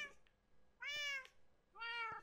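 Two clear, drawn-out meows from Minecraft cats, close and loud, separated by a short quiet gap, with no other sound around them.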